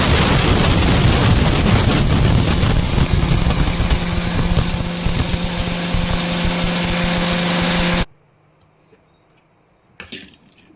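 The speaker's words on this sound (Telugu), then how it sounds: "ఇప్పుడు మిక్సీ పట్టుకుందాం" A kitchen mixer grinder whirs loudly and steadily as it grinds cooled roasted ingredients for a moringa leaf preparation, then cuts off abruptly, leaving quiet clinks and handling noises.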